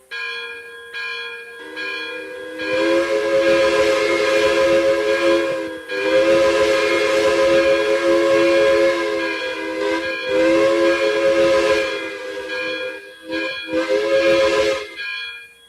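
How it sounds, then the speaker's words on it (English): A steam locomotive 5300 chime whistle in Minecraft blows in several long, loud blasts with short gaps, a rich multi-tone chord sounding alone and close. "Let's get the 5300 whistle."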